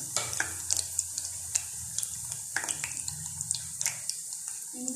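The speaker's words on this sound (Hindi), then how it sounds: "2 मिनट लगेंगे, दोनों साइडों से फ्राई हो जाएंगे।" Vegetable and potato cutlets fry in a hot pan with a steady, soft sizzle and scattered crackles and pops, heard close up with no talking.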